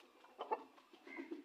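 An Aseel rooster makes a short run of low, throaty clucking calls, moderately faint and close, rising in a few quick bursts rather than a full crow.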